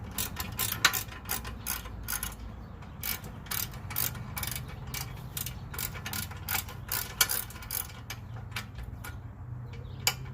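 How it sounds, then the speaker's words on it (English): Ratchet turning a bolt on the front brakes of a 2008 Kia Rio, with quick, close, clicking strokes in short irregular bursts and brief pauses. "Now I gotta screw back in, get my ratchet out."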